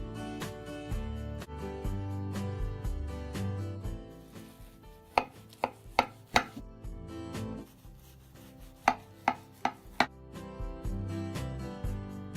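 A knife cuts through a freshly baked homemade meat pie, still slightly warm, giving a string of sharp crisp crunching taps near the middle, layered over a low steady background.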